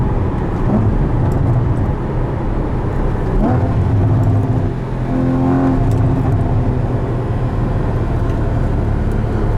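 Cabin drone from a 2016 Porsche Boxster Spyder cruising at about 3,000 RPM and 76 mph, a loud steady engine hum with road and wind noise and a faint rising tonal sweep midway.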